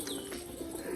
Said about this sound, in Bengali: পায়রা কিন্তু খুব সুন্দর বাজি করছে এই যে। আর বাজিতে কিন্তু আওয়াজও আছে,